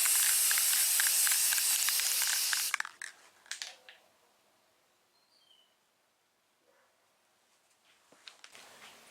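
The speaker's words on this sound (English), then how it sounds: "Guide coat, I'm just going to be using some spray paint." Aerosol can of satin navy blue spray paint misting a guide coat onto a fiberglass rear package tray of a 1987 Monte Carlo, a steady close hiss lasting about three seconds before cutting off, followed by faint scattered handling noises.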